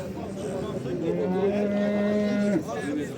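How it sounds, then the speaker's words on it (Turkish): A Simmental cow with a female calf at a cattle market gives one long, steady moo lasting a couple of seconds, close and loud over background market noise and murmuring voices. "Bax belə simental balalı dişi bala ilə. Belə bir inek var."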